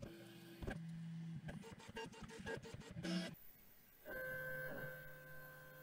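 Prusa 3D printer running its first-layer calibration, with close stepper-motor whines, rapid chattering moves and steady humming tones that shift in pitch as the print head travels.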